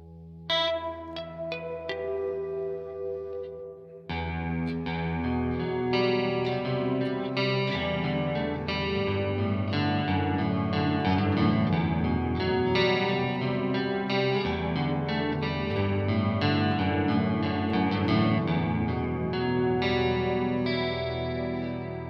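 Electric guitar fitted with Bartolini pickups playing a clean tone through effects with chorus and echo, a few picked notes and then continuous strummed chords ringing steadily and fairly quietly, no talking.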